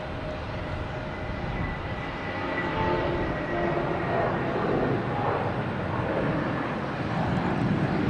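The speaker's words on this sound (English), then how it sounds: "Airbus A320." JetBlue Airbus A320 jet at Logan Airport at night, a steady broad engine roar that is loud and continuous throughout, swelling slightly toward the middle, with faint voices underneath.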